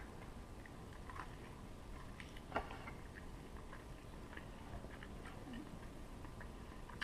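Quiet, irregular crunchy chewing of fried chicken with bacon topping, small bites and ticks scattered over a low background hiss, with one sharper crunch midway and no talk.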